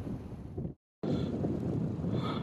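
Biting east wind buffeting a microphone during metal detecting on a farm field, loud continuous rumbling gusts broken by a brief dropout, with no talk.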